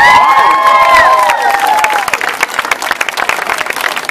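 A street show crowd at Southbank in Brisbane cheers a busker and juggler, whoops and shouts rising at first, then giving way to loud, sustained clapping from the gathered audience.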